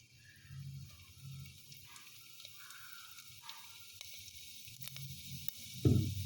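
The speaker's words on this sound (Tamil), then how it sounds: "அடுத்து ஆயில் கொஞ்சம் ஊற்றிக்கிடுவோம்" Oil poured into a kadai already holding urad dal, setting off a soft, hissing sizzle that swells and fades in patches, ending with a brief louder clatter near the finish.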